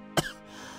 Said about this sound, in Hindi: ऊपर से खांसी